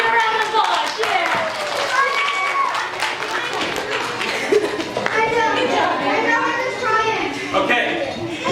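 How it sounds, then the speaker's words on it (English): Children at a vacation Bible school break into scattered, brief clapping amid chatter and kids' voices, with an adult speaking over the bustle of a room. "We get a round of applause"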